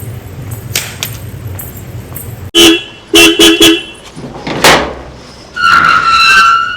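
A car horn blasts in a quick run of about four short honks, then sounds once more in a longer held toot, loud and close over quieter background noise.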